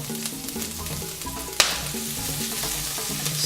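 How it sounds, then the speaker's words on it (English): Broccoli, stems and leaves included, stir-fries in a hot wok with a continuous close sizzle and crackle, broken by a sharp hissing burst partway through as food is tossed. "Listen to that sizzle."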